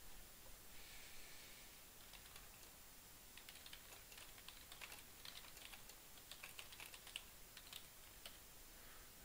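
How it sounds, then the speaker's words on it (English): Quiet typing on a computer keyboard as notes are entered, a soft run of uneven key clicks that is faint and close, with no voices. "and I'm going to type in some notes here."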